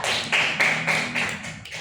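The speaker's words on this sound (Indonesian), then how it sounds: "Yuk, tepuk tangan untuk Nak Eva." A classroom of pupils applauds a student named Eva, a steady run of quick claps that stays close and fairly loud for nearly two seconds, with no talk over it.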